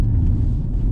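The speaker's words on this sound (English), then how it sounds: "I'm sort of coming out of the corners with a straight wheel when I'm smacking down the throttle." An Audi e-tron electric car accelerating hard out of a corner, giving a loud, steady low rumble and road roar heard close up for about a second, with no talk.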